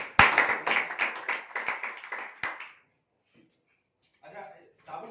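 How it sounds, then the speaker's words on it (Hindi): An audience at a seminar breaks into a short round of clapping, a brisk burst of hand claps with a few sharper loud ones that dies out abruptly, followed by silence and then a voice speaking. "एक बार तालियां हो जाए।"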